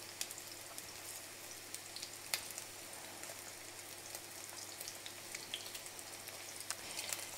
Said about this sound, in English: This is the perfect type of bubble and sizzle that you're looking for.